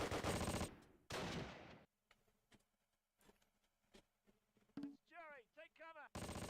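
Gunfire from infantry units in Close Combat: Last Stand Arnhem, with loud dense bursts at the start and end and scattered quieter shots between, plus a few short whistling or squealing effects.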